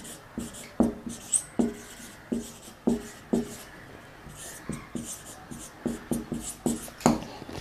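The Boltzmann factor equation being written on a board in a chemistry lecture: close, rhythmic taps and short scratchy strokes, about a dozen in quick succession with brief pauses between groups.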